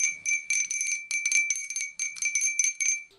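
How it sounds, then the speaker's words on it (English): An old bell from Wales is shaken in rapid bursts of bright, ringing tinkles, clustered in four quick rhythmic groups with short pauses between them, close and clear. "That was me ringing the bell."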